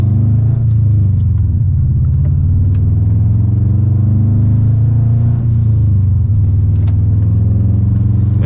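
A Subaru Impreza GC8 swapped with a 2.5RS engine for a rally build pulls at full throttle, a loud, close, deep engine drone that holds steady and heavy throughout with no talking.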